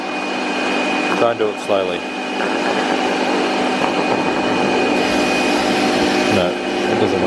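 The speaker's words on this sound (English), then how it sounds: "Come on, little vacuum." A small vacuum cleaner, partly blocked, runs with a steady loud whine and hum throughout, while a person talks briefly over it.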